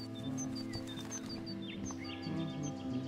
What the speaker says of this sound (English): The birds are flocking around Samuel.